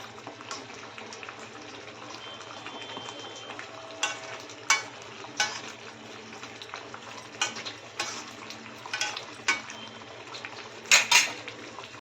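Lobster masala with spices and a spoon of ghee sizzles softly in a pan under a steady low frying hiss, punctuated by sharp clinks and scrapes of a spoon stirring against the metal.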